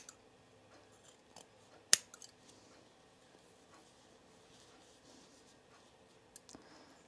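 Scissors trim fabric for a sewing project, a blouse, giving a few quiet snips and clicks with one sharper cut near two seconds, close but faint against a soft room background.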